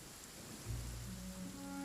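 Steady rain falls in the Genshin Impact game world, a faint, even hiss of drops with a soft low rumble and quiet tonal music underneath, no voices.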